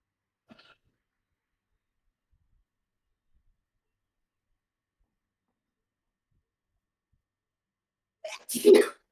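A single sharp sneeze bursts out near the end after a long stretch of near silence, preceded by a faint brief sound at the start.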